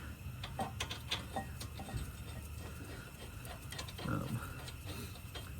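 Ratchet wrench tightening a bolt on a brake caliper during a front brake and rotor job on a 2019 Dodge Grand Caravan, faint quick clicking strokes in an irregular series under background noise and a low voice.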